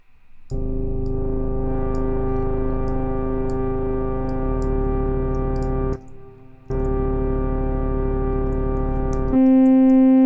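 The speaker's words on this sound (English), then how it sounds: "let's actually try to see how it would sound with our sub-oscillator" A buzzy synthesizer sequence drones with a deep low sub layer, steady notes shifting pitch, briefly dropping out near the middle before resuming.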